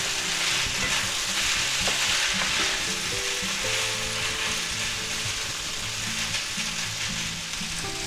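Shrimp chow mein sizzling loudly in a hot pan while being stirred, with a steady frying hiss and repeated scraping clatter of the utensil against the pan.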